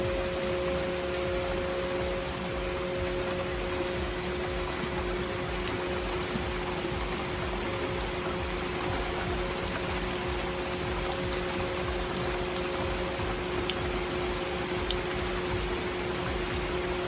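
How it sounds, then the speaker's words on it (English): Heavy rain pours steadily on a vegetable garden, a constant dense hiss with a faint steady hum underneath, unbroken for the whole stretch. "It is pouring."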